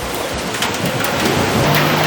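Heavy rain pours down at night over a congested Bangkok street, a dense, steady hiss of drops with a low rumble of traffic beneath, loud and continuous throughout.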